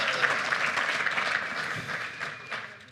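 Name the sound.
audience applause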